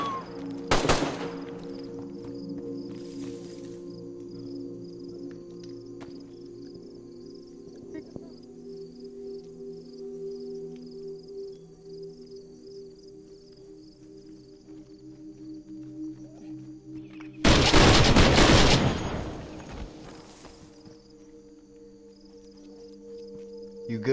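Gunshots in DayZ 1.15 on PS4: one sharp crack early on, then a loud, dense two-second burst of fire much later, both set over a steady, tonal background drone.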